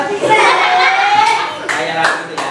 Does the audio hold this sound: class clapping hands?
yes